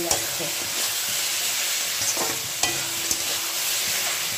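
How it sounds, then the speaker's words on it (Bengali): Ridge gourd stir-fries in a pan, giving a dense, loud hiss of sizzling with occasional spatula scrapes and taps, close up and without talk. "ঝিঙেটা তত অবধি কষাতে হবে যতক্ষণ না ঝিঙে একদম নরম হয়ে যাচ্ছে।"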